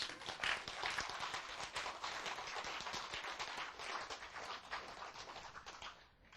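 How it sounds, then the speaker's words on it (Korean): Steady applause from an audience at a storytelling lecture, a dense wash of many hands clapping, faint and distant, fading out at the end. "왜 박수 소리가 나냐."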